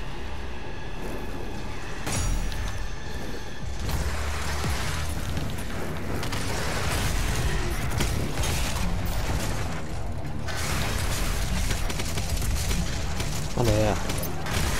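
Gunfire from a weapon in the DOOM Eternal video game, rapid bursts and mechanical clatter mixed with heavy game effects, mostly loud and continuous with short pauses.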